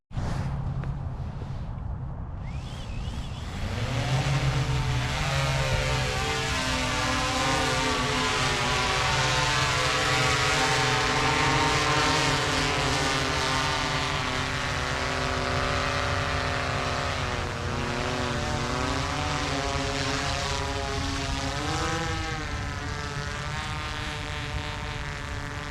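Motors of an industrial drone spin up after a brief quiet start, then a loud sustained propeller whine and buzz holds steady with shifting pitch as it lifts off, close by, no talking.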